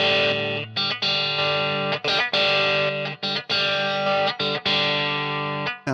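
A distorted electric guitar runs through a Boss IR200 amp pedal while its solo switch is toggled on and off, sustained chords with brief gaps and small level jumps between sections, played alone without talk.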